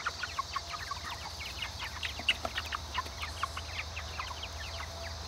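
Meat chickens being herded in for the night, giving a close, busy chorus of overlapping clucks and chirps that runs steadily throughout over a low background hum. No one speaks.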